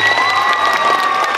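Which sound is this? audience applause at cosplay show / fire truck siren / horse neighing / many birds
audience applause at cosplay show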